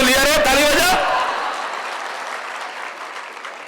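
Audience at a large religious discourse gathering bursting into applause right after a speaker's voice, a loud wash of clapping that swells then slowly fades.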